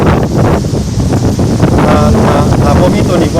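Wind drives a Thai kite hummer, a bow-shaped kite yoke, which gives a steady, loud buzzing drone. Gusty wind noise runs underneath and the hum stays unbroken throughout.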